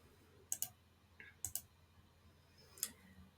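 Sharp mouse clicks on a computer: a quick double click, another pair a second later, then a single click, crisp and close in a quiet room.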